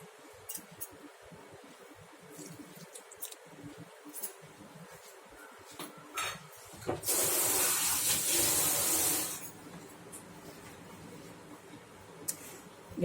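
A mixer grinder blending semolina, wheat flour, baking soda and milk for a wheat pizza base: a single loud, roaring whir of about two and a half seconds midway through, with only faint clinks and quiet room sound around it.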